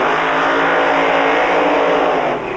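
Drag racing funny cars run burnouts at Santa Pod Raceway during the 1996 Summer Nationals, a loud, sustained engine roar with tyre squeal that holds steady, then eases slightly at the end.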